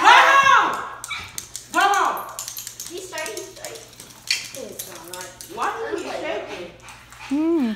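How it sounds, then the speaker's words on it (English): A dog barks and whimpers in short, high yelps scattered through the clip, with clattering dishes and a low steady hum in the background, while people talk over it. "but that dog scared me"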